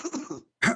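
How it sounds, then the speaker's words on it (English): A person gives a short, rough throat-clearing cough, then after a brief pause lets out a second sharper cough, both close and fairly loud. "More coughing."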